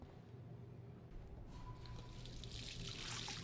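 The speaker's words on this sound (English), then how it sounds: "Splashing water on my face" A sink tap in the video game Life is Strange runs, with water splashing onto a face; a soft trickle builds into a brighter, louder gush that keeps going to the end.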